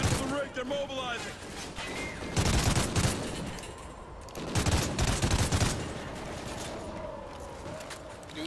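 Gunfire in Call of Duty: Ghosts, loud rattling bursts and heavy volleys in two strong waves over a constant battle din, with voices and radio chatter underneath.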